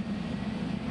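An airplane climbs into the air after a long takeoff roll, a steady low droning engine roar filling the brief moment without a break.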